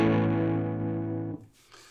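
An electric guitar through an Electro-Harmonix Green Russian Big Muff fuzz pedal, sustain turned all the way up, rings out a thick, buzzy chord, sustaining for over a second before cutting off abruptly into quiet.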